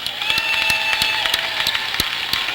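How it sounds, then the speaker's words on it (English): Scattered clapping from a crowd in a school gym at a youth basketball game between Jackson Timberwolves and Edmonds-Woodway, a steady wash of applause with sharp individual claps standing out and a faint tone sustained underneath. "So I appreciate if you give these guys the next generation a big round of applause."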